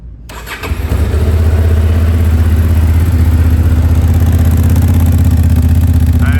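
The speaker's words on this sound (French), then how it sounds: "on a fait le tour de la moto. On va démarrer ça." A motorcycle engine cranks and catches, then settles into a loud, steady, rumbling idle up close.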